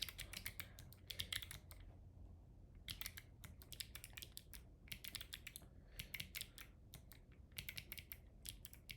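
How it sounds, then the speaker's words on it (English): Computer keyboard typing at close range while coding a budget-syncing app, with bursts of rapid keystrokes broken by short pauses over a low background hum. "Oh my god, I am incapable of typing."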